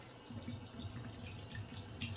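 Water runs steadily from a faucet into a sink, a soft continuous splashing hiss with no voices.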